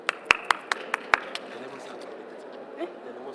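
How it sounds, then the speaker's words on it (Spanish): A few sparse, sharp claps from a small audience at an ICU medical lecture, about half a dozen distinct hand claps in the first second, then fading into quiet room tone. "un aplauso por favor"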